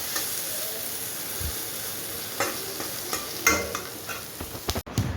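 Ivy gourd (kundri) frying in oil in a pan gives a steady, close sizzle and hiss, broken by occasional stirring clatters and scrapes, with no talking.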